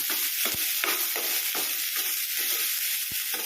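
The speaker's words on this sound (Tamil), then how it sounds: "அது கூடவே வெங்காயம் ஆட் பண்ணிக்கிறேன் இதை நல்லா வதக்கிக்கலாம்" Onions sauté in a hot pan with a dense, even hiss of frying and a few soft spoon knocks and scrapes, close and continuous.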